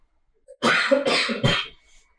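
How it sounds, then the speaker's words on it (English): A single close, harsh cough with a few rough bursts, loud and alone, trailing off quickly. "Excuse me 1 second, I'm going to cough."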